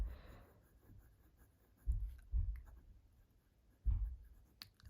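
A fountain pen with a Schon DSGN Monoc nib, inked with Diamine Raspberry Rose, scratching faintly across paper while writing upside down, soft quiet strokes punctuated by a few light taps and scrapes.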